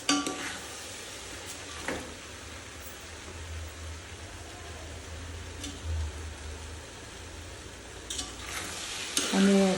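Poha tossed with potatoes in a hot pan gives a soft, continuous sizzle, with a handful of spatula scrapes and knocks against the metal scattered across the stretch and no voices.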